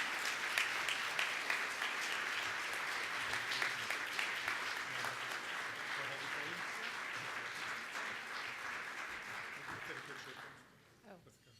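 An audience at an alumni luncheon applauds to welcome a speaker, giving a steady, fairly loud wash of clapping that holds for about ten seconds before suddenly dying away to near silence.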